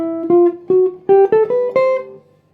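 A jazz ending, a run of about six short, clear notes climbing in pitch with a rhythmic swing feel, close and unaccompanied, fading at the end.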